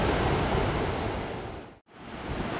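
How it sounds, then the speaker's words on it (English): Ocean waves rolling in under a fishing pier at Cherry Grove, South Carolina, a loud continuous wash of surf that briefly drops to near silence before the roar resumes. "recording the waves up underneath it"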